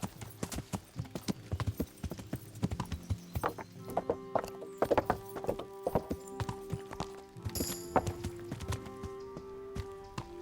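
Steady clip-clopping of horse hooves in a quick rhythm, with a brief whinny partway through and faint tonal sounds in the background, from the video game Kingdom Come: Deliverance.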